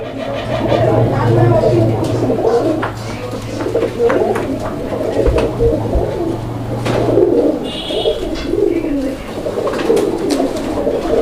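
A male Blackless Shorting pigeon coos steadily in a busy market, with other pigeons nearby and people talking in the background.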